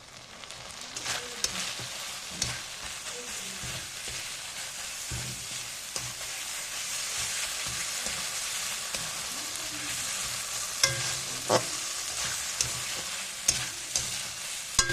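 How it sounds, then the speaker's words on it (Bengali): Spice paste with turmeric sizzling and frying in a pan for ghugni, a steady crackling hiss broken by scattered scraping stir strokes and clinks, fairly close and moderately quiet, with no talking. "মশলাটা প্রায় কষা হয়ে এসেছে"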